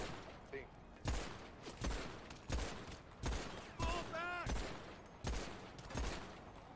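Gunshots in GTA V on the NoPixel roleplay server: about eight sharp cracks at fairly even intervals, quiet overall, with a faint voice in the background.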